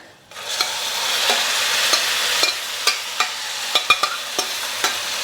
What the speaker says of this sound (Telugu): ఇదిగోండి తిరగమూత కాలింది వేసేస్తున్నా